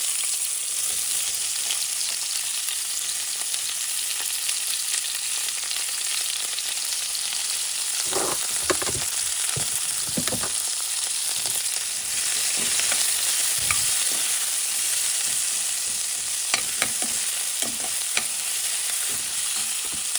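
Onions fry in oil over a medium flame for paneer biryani, with a constant close sizzle and hiss and occasional louder crackles and stirring scrapes, and no voices.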